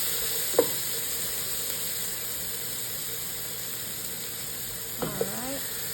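Garlic frying in a pan over medium heat gives a steady, soft broadband sizzle throughout, with a couple of brief utensil clicks near the start and end and no talk.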